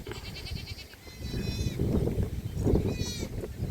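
Goats bleat in a village garden, a few high wavering calls rising above rustling and handling noise nearby, with brief human sounds mixed in.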